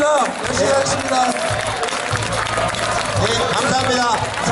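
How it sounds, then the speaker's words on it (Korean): Crowd applause at an outdoor street lecture by a city mayor in front of a train station, a steady wash of clapping mixed with crowd noise and voices, fairly loud and continuous. "멋진 강연해 주신 우리 시장님의 큰 박수 부탁드리겠습니다"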